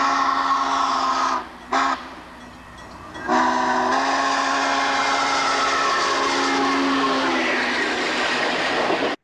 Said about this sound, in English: I hear a train whistle.